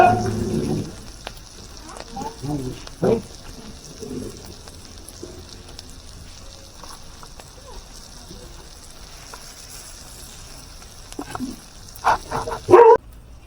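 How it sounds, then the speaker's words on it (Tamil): A dog barks and yips in short, scattered bursts, a few near the start and a louder cluster near the end, over a low sizzling background while dry fish is being fried, with some people talking. "நாய் குலைக்குதா?"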